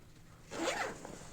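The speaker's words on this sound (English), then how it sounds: "so here's a zipper right there" A zipper on a Prodigy BP-1 V3 camera backpack is pulled in one quick, close, moderately loud rasping run lasting about half a second, with quiet room tone before and after.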